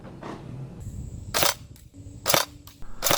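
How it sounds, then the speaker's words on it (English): An Umarex HK UMP45 Elite airsoft gun fires in short sharp cracks, three distinct close shots with brief gaps between them. "The gun consistently shoots at about 375 feet per second and 600 rounds per second."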